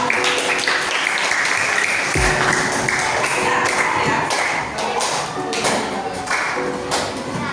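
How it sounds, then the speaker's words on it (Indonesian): Students in a classroom clap for group one after its presentation, loud uneven clapping close by, with scattered taps, thumps and some shuffling mixed in. "tepuk tangan dulu untuk kelompok"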